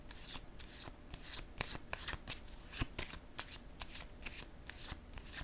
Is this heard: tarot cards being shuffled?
yes